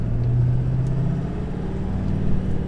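A Ford F450 truck being driven, heard as a steady low engine rumble close by, with a faint rise in revs early on and no talking.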